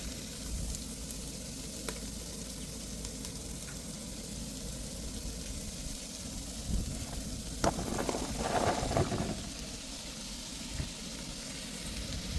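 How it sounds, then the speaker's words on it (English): Onions, celery, carrots and cabbage sauté in a soup pot with a moderate steady sizzle, and a few clinks and a short burst of stirring come midway. "Now I will saute them,"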